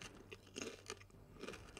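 Crisp crunching of Cap'n Crunch cereal being chewed during a mukbang while playing Halo 2, a few close bursts of crackling bites with quiet gaps between them, no talking.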